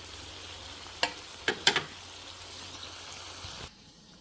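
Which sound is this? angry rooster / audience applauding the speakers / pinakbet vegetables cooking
pinakbet vegetables cooking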